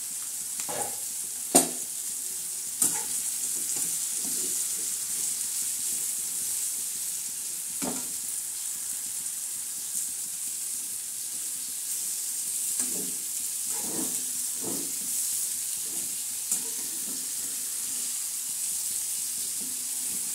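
Okra fries in a pan with a steady, moderate sizzle over about twenty seconds, punctuated by irregular scrapes and knocks of a spoon stirring it.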